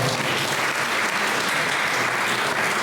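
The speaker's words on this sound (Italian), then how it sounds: "Applauso." Steady, dense applause from a seated audience fills the whole stretch for a poet at a poetry contest, loud and continuous without pauses.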